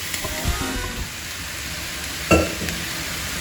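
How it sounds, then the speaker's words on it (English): Fried rice stirred in a hot pan, with a steady sizzle, soft scraping and one louder clink of the utensil partway through, heard close with no talking. "Now, we continue to stir everything in there."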